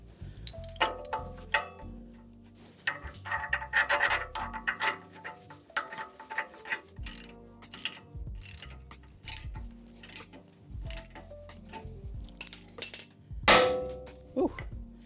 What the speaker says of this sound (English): let's try things with this ball joint separator